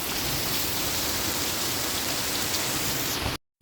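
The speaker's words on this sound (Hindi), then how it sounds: "यहाँ पर लग चुकी है बड़ी खतरनाक बारिश" Heavy rain pours down during a severe storm in Arki, Himachal Pradesh, a dense, steady hiss of drops close by that continues unbroken until it cuts off abruptly at the end.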